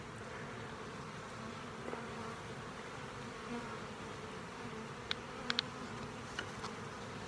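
Honey bees buzz around an open hive during an inspection, a dense steady drone close by with a few sharp clicks of frames and tools near the end, no talking.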